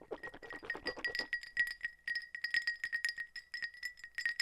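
Glasses clink together repeatedly in a toast, bright ringing taps in quick irregular bursts, close and clear, with murmured voices at the very start.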